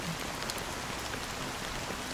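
Rain falling in the video game Honkai: Star Rail, a dense steady hiss of drops spread evenly across the clip, moderately quiet and continuous with no voices.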